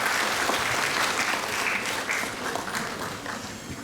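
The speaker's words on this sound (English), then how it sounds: "I request all of you to give a big round of applause in appreciation for your" A commencement audience applauds teachers with sustained, dense clapping that fills the space at a steady level, with no talk over it.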